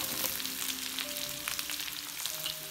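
Onions frying in oil in a pan for a Kerala crab kizhi, a steady close sizzle running through the whole stretch with faint scraping stirs and a low hum underneath, no talking.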